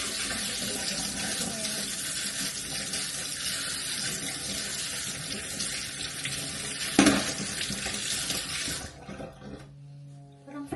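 Tap water runs steadily into a container, a loud, even hiss and splash that continues unbroken, with a brief knock partway through, before the flow cuts off near the end, leaving a quiet room.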